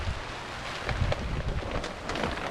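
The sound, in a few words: heavy rain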